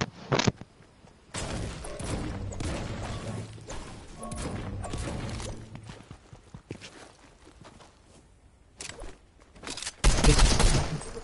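Bursts of gunfire crackle in a PS4 game: sharp shots and volleys come in clusters with quieter gaps between them, ending in a loud, dense barrage, with no talk heard.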